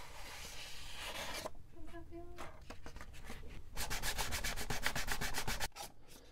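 Fine 800-grit sandpaper rubbing paint off the plastic casing of a Mares Genius dive computer, close and continuous scratchy strokes, with a quicker, brighter burst of rapid rhythmic rubbing toward the end.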